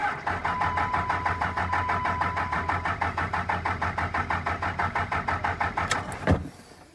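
A diesel engine in a pit runs with a steady, rapid, rhythmic chugging at fairly close range, then ends in a sharp surge and sudden drop near the end.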